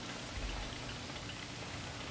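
Steady rain falling in the dinosaur park game Jurassic World Evolution as a storm rolls in, a continuous even hiss of raindrops without any voices.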